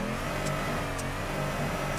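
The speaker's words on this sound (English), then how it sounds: "I'm gonna stay in second gear and just try and float this car around the course" A drift car engine held in second gear in Torque Drift on a go-kart track at Formula Drift Englishtown gives a steady, loud mid-pitched drone throughout, with no talking.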